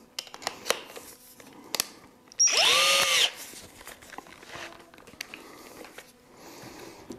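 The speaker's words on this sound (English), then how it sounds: "we're going to drill onto the inside now" A brief, loud burst of a power drill with an extension drilling into the inside of a cooler, whirring for under a second amid quiet handling noises and small knocks.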